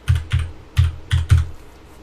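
Five firm keystrokes on a computer keyboard, entering a purchase order number, in an uneven rhythm over about two seconds, close and clear with no voices.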